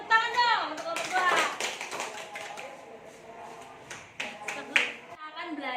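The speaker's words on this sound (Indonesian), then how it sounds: "Tepuk tangan dong untuk kelompok 2." Scattered classroom clapping for a student group, sparse uneven hand claps mixed with children's voices talking over them.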